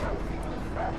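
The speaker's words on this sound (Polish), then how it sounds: "Psy mamy na karku." Dogs bark and yip in the video game Far Cry 3 on Rook Island, a quick burst of barking that sits under game sounds.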